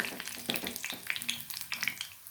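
Pitha fry in hot oil with a soft, close crackling and popping, quiet bubbling bursts that come in quick uneven clusters and carry on without any voices.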